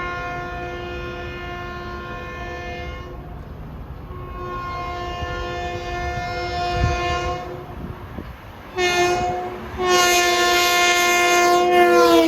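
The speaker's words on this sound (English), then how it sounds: "Well, we have another eastbound at Wicks Road at 4:12. This is train 2060, Grand Central to Ronkonkoma." An LIRR eastbound electric MU train, number 2060 from Grand Central to Ronkonkoma, sounds long, loud horn blasts as it approaches and passes the Wicks Road grade crossing, with a rushing roar building at the end.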